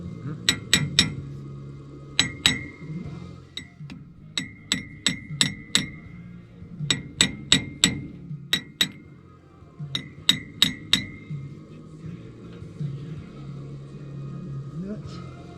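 A series of sharp metallic hammer strikes during a trailside U-joint repair in Moab come in quick bursts of two to four, ringing clearly over low background murmur.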